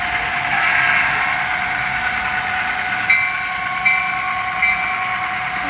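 Model railroad train in a club layout, giving a continuous steady electronic running hum with a bright tonal whine. A few faint clicks fall in the second half, with no voices.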